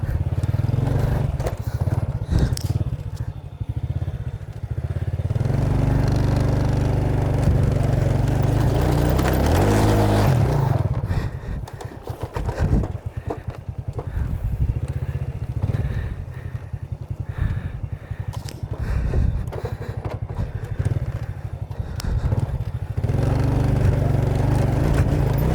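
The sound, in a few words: motorcycle engine straining uphill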